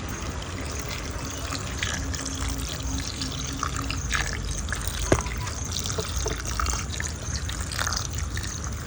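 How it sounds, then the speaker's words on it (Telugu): Continuous trickle of hot water being poured into batter, close and steady, with a faint clink partway through. "వేడి నీటిని ఇందులో యాడ్ చేసుకోవాలి"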